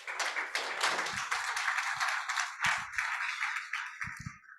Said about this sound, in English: another round of applause to our very dear colleagues from SAQA